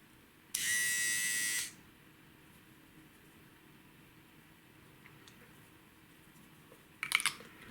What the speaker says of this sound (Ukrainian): і безпосередньо сам тример. Навіть працює, батарейка заряджена.